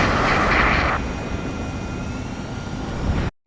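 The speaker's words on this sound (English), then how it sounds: "Movement on the deck. It's their aircraft." Enemy jet aircraft engines roar in the Ace Combat 7 video game, a steady loud broadband rumble with a thin whine on top that holds for about three seconds before cutting off sharply.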